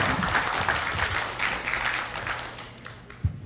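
An audience at a National Assembly workshop gives a short round of applause, a moderate, fairly close clatter of many hands that fades toward the end.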